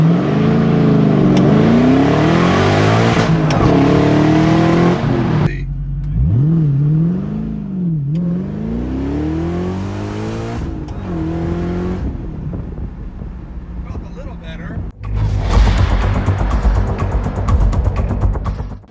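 Close and loud, a car on the street pulls away from idle, its engine revving up and down in repeated rising and falling sweeps, ending with a harsh burst of acceleration.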